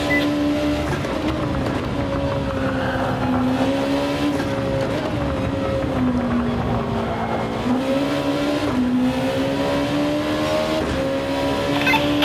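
Honda NSX Concept GT race car engine in Gran Turismo 7, a loud continuous wail that rises and falls with shifts and throttle through corners, with faint tire squeal and no talk.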